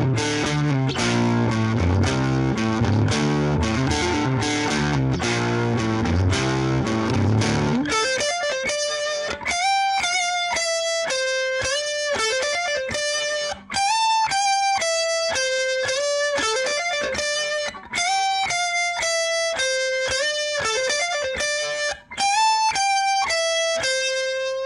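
An electric guitar played through a modded Fender Champion 600 amp, dialled to a distinctive tone: a dense, distorted strummed passage gives way to bright, driven riffs and bent lead notes, loud and continuous.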